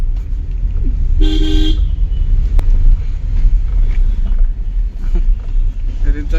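A car drives under a bridge with a steady engine rumble and wind buffeting, and a short horn toot sounds near the start. Voices talk over it.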